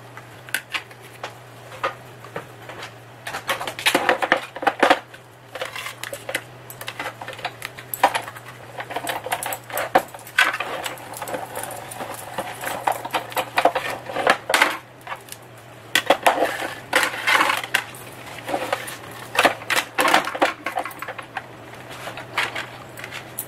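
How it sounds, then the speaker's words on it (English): Card stock being cranked through a lattice embossing folder in a Big Shot machine, giving irregular clicking, rattling bursts of mechanical noise in uneven spurts with short pauses, close and moderately loud. "I'm running it through the lattice embossing folder."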